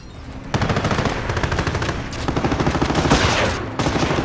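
Sustained machine-gun bursts and rapid gunfire in the World War II strategy game Company of Heroes, set during the Normandy invasion at Vierville, loud and continuous with dense overlapping shots throughout.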